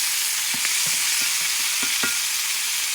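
Chicken wings sear in a hot pot for a Puerto Rican stew, a dense continuous sizzle broken by several soft scrapes and knocks as the pieces are pushed around, close up with no talking.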